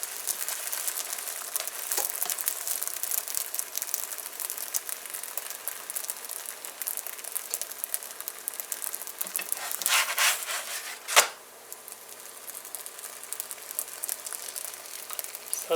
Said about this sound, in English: Oiling the other side and flip it again to cook the other side.